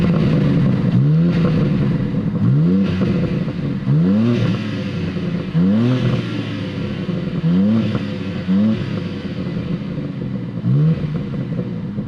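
BMW G80 M3 Competition with its S58 engine revving repeatedly: a series of about seven sharp, loud blips rising and falling at regular intervals over a steady engine drone, close by with no voices.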